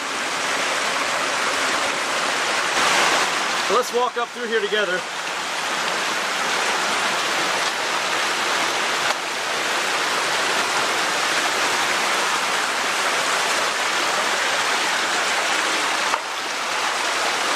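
A creek flows steadily along a former gold mine run, a broad constant rush of water near the microphone that runs the whole time, with someone talking briefly early on.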